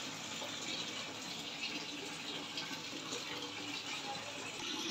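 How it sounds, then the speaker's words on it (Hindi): Water gushing from a tap into a bucket for watering plants, a steady, even rushing fill that holds at a constant level for the whole stretch. "ये देखें इस बाल्टी में पानी डालना है"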